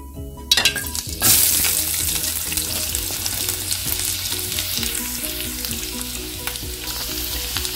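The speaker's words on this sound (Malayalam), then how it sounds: "ഇനി അതിലേക്ക് എടുത്തു വെച്ചിരിക്കുന്ന സവാള, പച്ചവെള്ളം, കറിവേപ്പില ഇട്ട് കൊടുക്കാം." Sliced onion and curry leaves drop into hot oil in a pan for a chayote curry, bursting into a loud, dense sizzle that holds steady close up after a brief quieter start.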